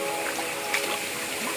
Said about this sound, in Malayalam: ഈ വെള്ളച്ചാട്ടത്തിൻ്റെ നേരെ താഴെയായിട്ട് ഒരു ചെറിയൊരു തോട് പോലും ഇങ്ങനെ ഒഴുകുന്നുണ്ട്.